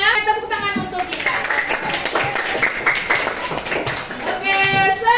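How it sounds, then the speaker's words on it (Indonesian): Students clapping together in a classroom lesson, uneven clapping mixed with children's voices and a teacher's speech, fairly close and moderately loud. "Tepuk tangan untuk kita"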